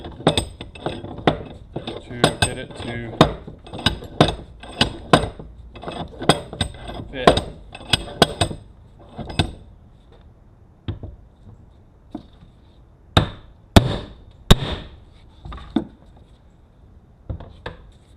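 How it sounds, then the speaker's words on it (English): Sharp metallic hammer strikes on a clip during work on a 1965 Mustang, arriving in quick irregular bursts, then a quieter gap before a few louder, widely spaced blows near the end. "Now I have to hammer on this"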